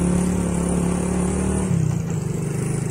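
A broken-down motorcycle engine labours and revs steadily on a steep slope near a landslide in Barangay Sambong, Tagaytay, a loud continuous drone that shifts pitch partway through.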